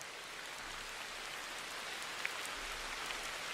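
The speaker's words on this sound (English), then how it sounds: "I need to get the rain going." Steady rain ambience plays at low volume for a study session, a dense even hiss of falling drops with a faint patter and no voices.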